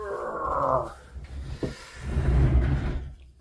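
A tiny dog growls in a few uneven rumbling bursts, fairly close, with a brief sharp knock partway through and a louder, rougher stretch near the end.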